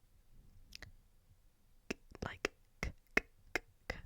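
A series of sharp, dry clicks spaced irregularly in a quiet room, with faint breathy whispering between them.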